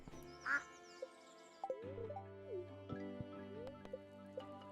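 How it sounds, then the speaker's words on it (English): A duck quacks in Stardew Valley amid soft game sound effects, a single clear quack near the start followed by light blips, plops and short tonal chimes. "Get the duck."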